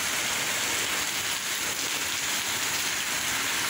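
Heavy rain pours down steadily after a hot afternoon, a dense, unbroken hiss of drops close by with no voices over it.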